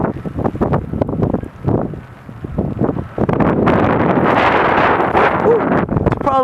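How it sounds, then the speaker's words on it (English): Strong wind from the Winter Storm Nemo blizzard gusts across a normally busy road intersection, roaring and buffeting the microphone in loud, continuous rushes that build and stay heavy through the second half. "windy as hell"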